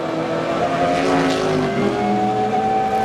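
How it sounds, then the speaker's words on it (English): A BMW M3 GTR race car with a small V8 race engine, racing in the 2001 ALMS at Mid-Ohio, revs with a loud sustained whine that climbs and holds in pitch, heard steadily at close range. "this is just like the ultimate M3 because of this little V8 race motor"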